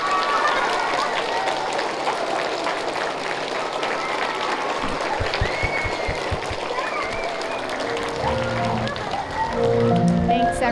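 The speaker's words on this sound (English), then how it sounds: "I would love for you to thank them for their service by giving them a huge round of applause" An audience at an American Legion Post 68 veterans assembly gives a loud, sustained round of applause for veterans, with voices and crowd noise running through it.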